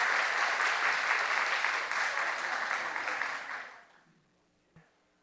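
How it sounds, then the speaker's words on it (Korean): A church congregation applauds to welcome returning missionaries, a full, steady round of clapping that fades out after about four seconds, followed by a single faint knock. "박수로 환영합니다"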